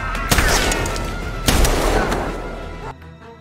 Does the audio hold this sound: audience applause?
no